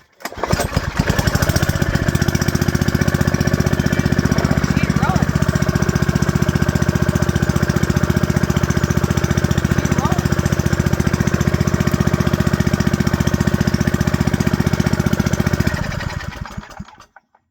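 A 1981 Tecumseh small engine running steadily and loudly for about fifteen seconds with a rough, throbbing mechanical drone, then cutting out and winding down at the end.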